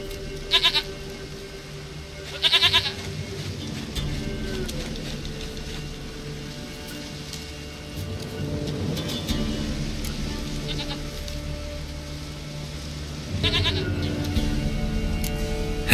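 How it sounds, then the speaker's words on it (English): Short goat bleats from The Witcher 3 come in three quick bursts, at the start, near two seconds and near fourteen seconds, over quiet ambient game music and background sound. "Goat of mine, dearest, sweetest goat"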